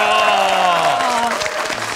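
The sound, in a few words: studio audience applause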